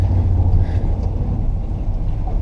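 A car driven through a U-turn in second gear gives a low, steady engine rumble at fairly low revs, close and continuous.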